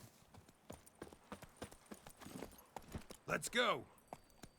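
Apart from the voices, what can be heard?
horse Roach galloping hooves in a video game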